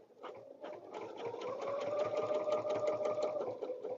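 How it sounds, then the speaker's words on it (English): A sewing machine runs steadily at close range while stitching a quilted table runner, a continuous mechanical whir with a rapid needle rhythm and no talking. "We're going to stitch to A right here, and we're going to stop."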